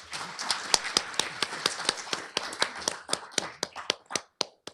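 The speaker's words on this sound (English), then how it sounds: "Big round of applause for Anna." Applause from a seated audience at a panel event on spirituality in serious illness and health, welcoming a speaker. Scattered, uneven claps sound sparse and fairly close, thinning toward the end, with no talk over them.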